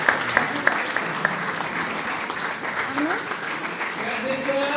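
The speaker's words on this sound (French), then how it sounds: "Du coup, on applaudit, comment ça se passe?" A church congregation applauds during a Sunday service as a child is presented, a broad steady clapping with a few sharp claps standing out early, while voices murmur faintly underneath.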